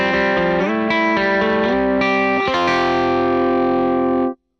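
Electric guitar driven through a Last Light overdrive pedal, loud and crunchy with a fluttery, chorus-like shimmer, a run of strummed chords and notes that ends in a sustained ringing chord cut off abruptly.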